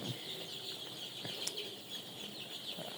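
Seven-day-old chickens in a poultry shed, a steady high chorus of small peeping and clucking calls with occasional wing flutters, continuous and fairly close.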